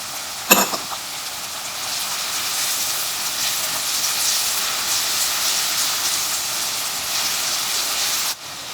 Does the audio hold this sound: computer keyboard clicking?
no